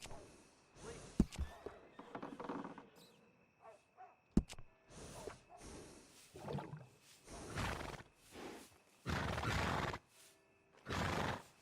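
A horse in Red Dead Redemption 2 gives a short whinny among game sounds, snorts and scattered thumps, with bursts of character speech in between.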